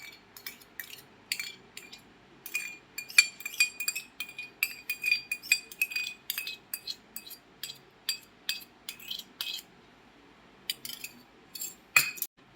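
A metal spoon clinks repeatedly against a bowl while curd is poured in and whisked for khaman dhokla batter, quick irregular light taps, close and fairly faint.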